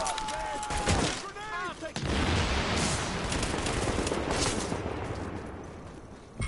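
Heavy, continuous gunfire in The Division, a dense fusillade of rapid shots with a voice briefly heard over it near the start.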